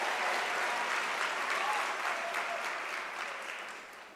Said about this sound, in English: can we give a round of applause to our academics on the stage?